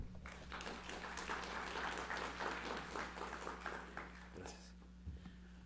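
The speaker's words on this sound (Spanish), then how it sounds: "Lo recibimos con un fuerte aplauso." Faint, steady applause from a conference audience welcoming a UN system representative in Ecuador at a panel on media and human rights, with a low electrical hum and some voices underneath.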